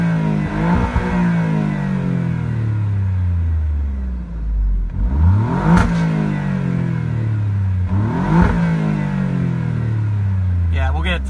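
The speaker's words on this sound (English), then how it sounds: "now we're going to race mode, and we're going to rev it. Now the baffles are open for the exhaust." Alfa Romeo Giulia Quadrifoglio in race mode with open exhaust baffles, revved hard several times, each rev climbing then falling away in sweeping tones, loud and close with crackle between blips.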